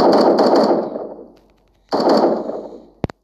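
Rifle gunfire in the online shooter game 1v1.lol: two loud sustained bursts of rapid shots about a second long each, with a short pause between, then a couple of sharp single cracks at the end.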